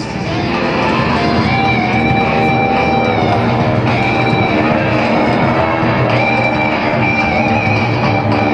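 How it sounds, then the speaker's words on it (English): GEICO Skytypers propeller airplanes roar loudly and steadily during a strafing pass at an airshow, with a dense droning engine wash throughout and faint voices mixed in. "Steve and Tom, let's watch them as they turn on the smoke and get ready to roll in on this strafing pass"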